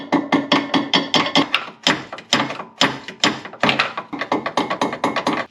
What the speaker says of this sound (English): I'm just gonna try this little hammer